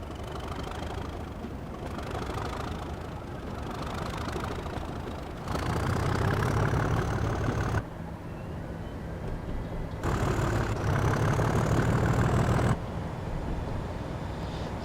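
Class 37 diesel locomotive in Train Simulator 2016 on the Wherry Line, its engine rumbling near and loud and surging in two heavier bursts of revving between quieter stretches.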